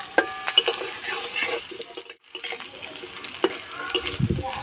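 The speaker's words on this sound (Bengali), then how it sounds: "আলু হালকা করে ভেজে নেব।" Potato pieces fry lightly in a spoonful of oil with cinnamon sticks, cardamom and cloves, the start of a bitter-gourd rezala. A steady close sizzle carries scattered sharp clinks and scrapes of a utensil stirring in the pan, with no voices.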